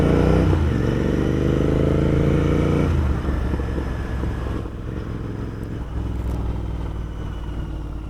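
A Royal Enfield Continental GT 650 motorcycle rides along with a loud, throbbing engine drone that drops off as it slows down, leaving a lower rumble.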